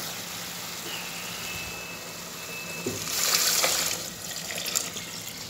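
Chicken broth pours into a pot of opened mussels, a soft liquid splash rising over a low background hum for a couple of seconds.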